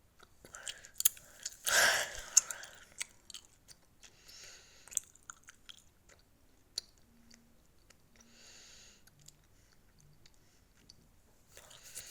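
Chewing gum worked in the mouth close to the microphone, with irregular wet smacks, squishes and clicks, louder in the first seconds and then fading to quieter, sporadic chewing.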